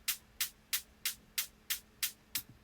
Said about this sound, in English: The first one is a very simple loop right here